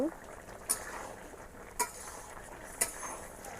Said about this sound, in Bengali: একটু লাড়া দিয়ে দিব